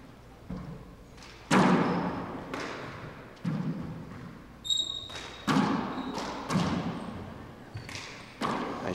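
A handball in a four-wall court during a men's finals match thuds off the wall and floor, a series of sharp echoing bounces spaced about a second apart in a reverberant room, with a commentator talking over them.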